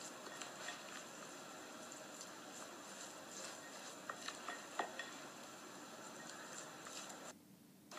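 Quinoa salad of lettuce, parsley, grated carrot, corn, olives and boiled quinoa being tossed together in a bowl, giving a steady soft rustling and stirring texture with a few light clicks, close and alone, ending in a brief quiet moment.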